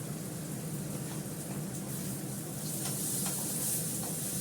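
Bitter gourd fries in hot oil with a loud, continuous, close sizzle that holds steady from start to finish.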